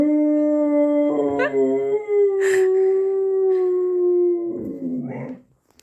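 A dog howls in one long, sustained wavering tone, close and loud, with a couple of short yips breaking in before it trails off.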